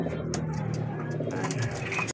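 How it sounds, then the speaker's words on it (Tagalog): Racing pigeons returned from a free pooling race coo close by, a steady low throaty burble lasting a couple of seconds. "nandito na rin si Pasaway tsaka yung isa nating ibon"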